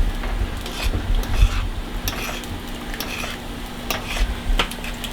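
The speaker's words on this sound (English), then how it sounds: "Gravy's starting to boil a little bit." Gravy in a pot on a Thanksgiving stovetop, a steady low bubbling and sizzling with occasional stirring and clinks of pots, close and continuous without talk.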